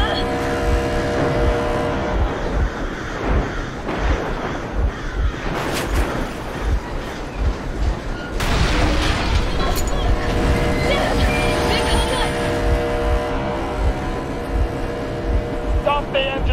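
A vehicle engine runs in the video game Metro Exodus, a steady rumbling drone layered with other in-game noises, while voices talk over it.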